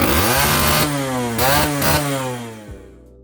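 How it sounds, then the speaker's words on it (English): A Yamaha MX100 motorcycle engine with a stuck throttle starts and screams at high revs, sounding loud and close in a raspy two-stroke buzz before cutting off abruptly near the end. "we put the bike back together, filled the tank, and attempted to start it"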